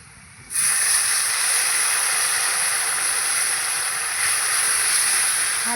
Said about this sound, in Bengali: এটা দিয়ে দেব একটু জল দিয়ে দেবো